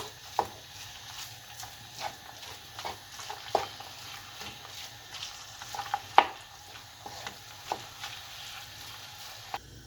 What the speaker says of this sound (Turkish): Biraz kavurduktan sonra soğanımızı ilave ediyoruz. Karıştırıp güzelce kavuruyoruz.